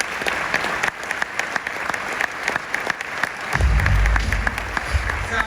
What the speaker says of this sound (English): So everyone give a big round of applause for my friend